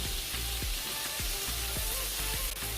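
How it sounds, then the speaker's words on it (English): Garlic sautés in a pan, giving a dense, continuous sizzling hiss with faint rhythmic ticks and pops running underneath, close and steady from start to finish. "So allow that to saute nicely, like so."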